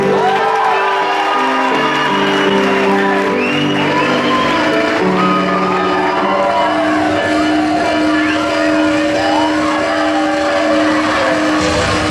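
A church congregation applauding together with music and cheering, a dense steady wash of clapping and voices under sustained loud tones.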